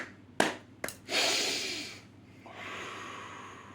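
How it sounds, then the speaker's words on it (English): Two sharp sniffs lead into a deep, noisy breath drawn in through the nose, followed by a quieter, longer exhale, close and alone with no speech. "we're going to finish it by taking a big breath in"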